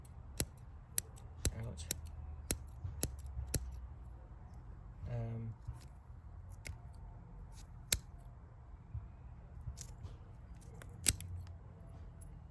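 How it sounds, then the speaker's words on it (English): Scissors snip tree roots during repotting of Fabaceae trees into a seed tray, a run of sharp close clicks in quick succession, then sparser cuts, with a brief voice in between. "So I'll just prune out with my scissors"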